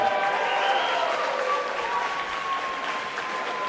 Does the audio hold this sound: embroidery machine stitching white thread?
no